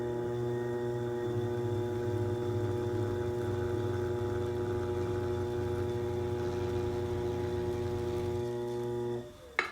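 A potter's wheel spins fast while cups are trimmed, making a steady, droning motor hum with strong tonal overtones that holds evenly, then cuts off with a sharp knock at the very end.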